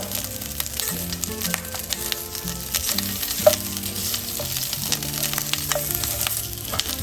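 Chorizo sizzles and chars in a pan over a high flame, with a steady, close frying hiss broken by the scrape and clatter of stirring, plus one sharp pop partway through.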